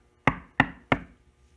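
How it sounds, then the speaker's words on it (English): Three firm knocks on a door come in an even, quick rhythm, each a sharp hollow rap that fades fast, heard alone in a quiet room. "the big bad shark came knocking at the door"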